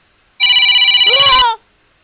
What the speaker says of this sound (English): How about 80s phone?